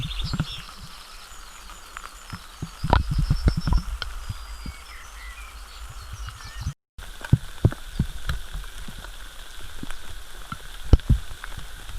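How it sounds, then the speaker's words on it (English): Rain falls steadily during an outdoor hike near Silbury Hill in stormy weather, with scattered close drops and taps over a constant hiss from start to finish, and a short gap of silence partway through. "So the rain's got us"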